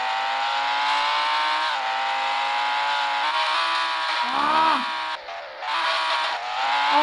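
Supercar driven in the Roblox game Driving Empire, a continuous whirring engine tone with rising and falling pitch, a brief swooping squeal midway and a short dropout before the drone resumes.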